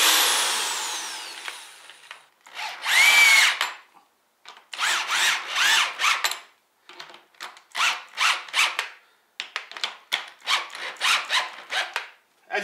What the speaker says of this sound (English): Got the good old hammer drill out for this.